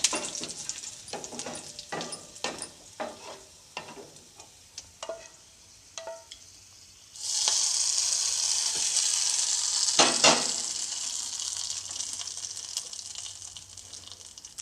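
Curry leaves dropped into hot oil for tempering coconut chutney, starting with scattered crackles and pops, then bursting into a loud, steady sizzle that continues to the end, close up with no voices.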